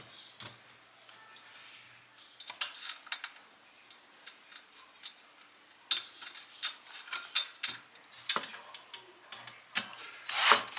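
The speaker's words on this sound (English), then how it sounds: "you're going to simply just put the bolts in. Lock them down to your desire." Bolts are tightened onto the bracket of an OKPRO S-5050GC 3000W solar street light, giving close, irregular metallic clicks and ratcheting taps against quiet background.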